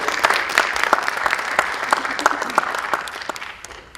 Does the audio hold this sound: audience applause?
yes